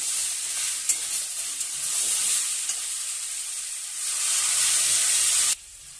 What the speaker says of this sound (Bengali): দিয়ে এবার জল ঢেলে দেবো